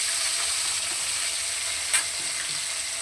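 Small fish frying in hot oil for a spicy fish curry with green tomatoes: a steady, close hiss and sizzle that runs throughout, with one brief sharp pop partway through and no voices.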